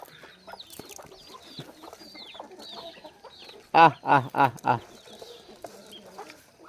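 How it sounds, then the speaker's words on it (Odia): Two chickens squabbling close by, giving scattered clucks and squawks that end in a loud burst of four harsh calls, with chirping birds and a little background voice around them. "ଏଇଟା ଲଢ଼େଇ ଲାଗିଗଲାଣି କୁକୁଡ଼ା ଦୁଇଟା।"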